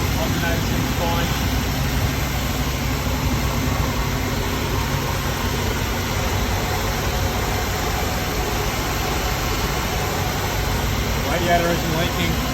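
A car engine idles steadily at full operating temperature, giving a constant low rumble with a broadband hum that holds even throughout.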